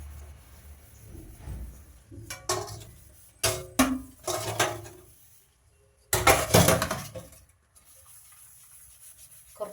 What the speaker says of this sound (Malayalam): ഈ ഇത്രയും പാത്രവും പിന്നെ രണ്ട് കലവും കൂടി ഉണ്ട് കഴുകാൻ